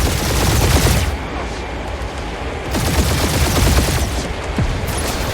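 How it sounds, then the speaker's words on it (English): Sustained heavy gunfire from the Marvel's Guardians of the Galaxy video game, dense overlapping bursts and rapid shots rattling continuously at close range for several seconds, loud and unbroken, with a faint voice underneath. "feel free to point the guns right at him and charge."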